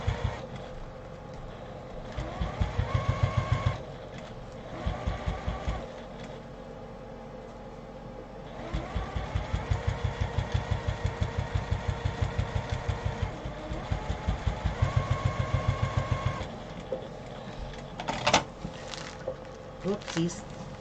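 A sewing machine stitches along a fabric briefcase close to the zipper, running in bursts of rapid, steady motor-driven stitching with short pauses between runs, loud and close.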